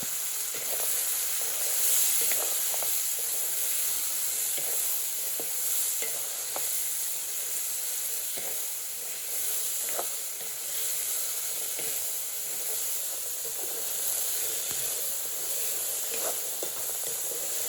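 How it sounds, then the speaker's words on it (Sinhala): Washed pea eggplants (thibbatu) sizzle and hiss steadily in hot oil in a pan, with a spoon stirring them in repeated soft scrapes and clatters throughout; no voices. "වතුර බේරගනිපු තිබ්බටු ටික එකතු කරලා හොඳින් හැඳි ගන්න ඕනි"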